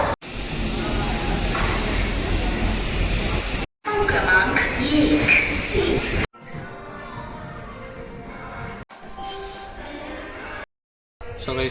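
Loud rumbling and hissing of a passenger train departing Tirupati, with a steady broadband roar that cuts out and shifts to a quieter interior rattle.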